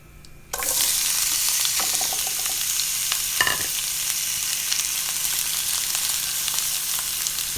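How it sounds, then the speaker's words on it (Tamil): Sliced big onions sizzle steadily in hot oil in a pan for a crab gravy, starting abruptly after a short quiet lead-in, with occasional scrapes and stirring clinks over the constant frying hiss. "இதையும் நல்லா வதக்கி விட்டுறணும்."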